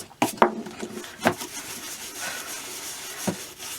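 A small brush rubs and scrubs over riding boots at close range, with a few sharp strokes followed by steady scrubbing.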